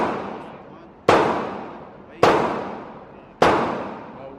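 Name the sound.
rapid gunfire at a shooting range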